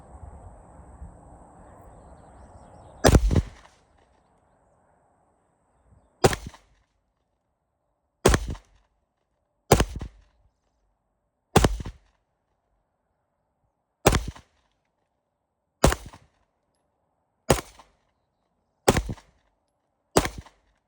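Ten sharp, loud shots from a Springfield Ronin EMP pistol at a shooting range, fired singly at irregular intervals of one to three seconds, each a crisp crack with a quick fade and silence between.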